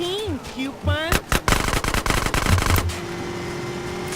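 Gunfire in GTA San Andreas: a rapid burst of loud, close shots in quick succession lasting about two seconds, with someone talking just before.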